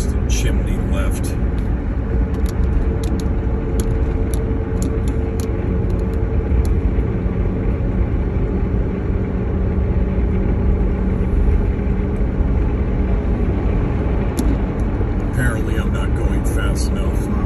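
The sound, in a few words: speeding car passing on road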